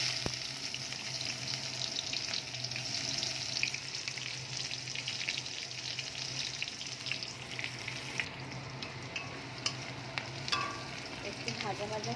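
Chopped onion hits hot oil already tempered with cumin, left over from frying fish, and sizzles steadily and quietly for several seconds with faint stirring crackles.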